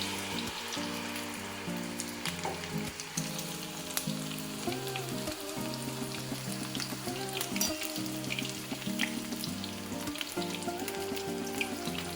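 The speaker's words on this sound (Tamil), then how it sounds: "நல்லா சூடான எண்ணெயில் நம்ம பொரிக்க போகிறோம்" Continuous crackling and sizzling of battered cauliflower deep-frying in hot oil, steady and close, with a low hum underneath throughout.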